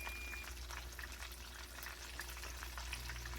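Chicken for keto fried chicken sizzles steadily in a pan, a dense continuous crackle and spatter heard up close with no talking.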